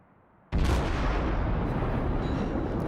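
A warship's guns fire armor-piercing shells in a naval video game, one loud, close blast that erupts suddenly and rolls on as a sustained, dense rumble to the end.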